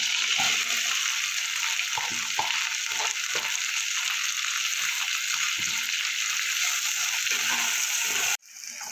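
Chopped onions frying in oil in a pan for a Bengali prawn curry, a steady close sizzle with faint stirring scrapes, ending in an abrupt drop.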